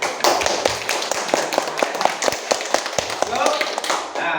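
A classroom of students applauds at a teacher's prompt, a dense, steady patter of hand claps lasting several seconds, with voices mixed in underneath.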